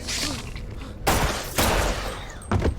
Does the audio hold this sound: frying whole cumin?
no